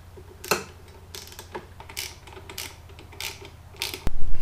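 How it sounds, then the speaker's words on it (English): Self-tapping lag screws driven into the mount for a Genie garage door opener, with a series of short sharp clicks and ratcheting bursts at irregular intervals, then a louder buzzing surge at the end. "now we're gonna put these self-tapping lags in here"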